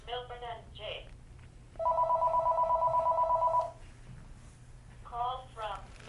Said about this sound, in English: So the phone's ringing, but we're not going to answer it.